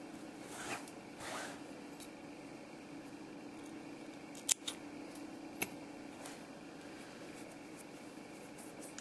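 Scissors snip off a yarn end on a crocheted scarf with a few sharp close clicks, spread over a quiet background with a low steady hum.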